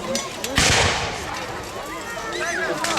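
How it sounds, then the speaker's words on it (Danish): Cannon fire at a castle battle reenactment in Nyborg: a sharp, loud blast followed by a long, rough rumbling decay, with crowd noise and faint voices around it. "Og så bliver borgen ellers bestrøget af kanoner."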